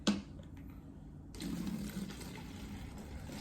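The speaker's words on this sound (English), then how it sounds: "And now I'm going to pour the half a cup of vinegar into the bottle." Half a cup of vinegar poured into a bottle for a balloon-inflating experiment, a steady liquid pour that swells louder partway through and keeps running close by, with no talking.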